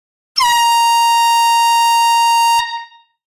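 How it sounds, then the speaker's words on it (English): A single loud, sustained air horn blast rings out for about two seconds as a congratulatory fanfare at a live record sale, then cuts off with a short fading tail. "it warrants a congratulatory air horn and a thank you"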